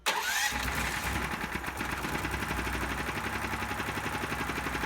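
A 420cc supercharged fuel-injected Hemi engine cranking and firing on its first start, then running with a rapid, rough, pulsing idle, loud and close with no voices.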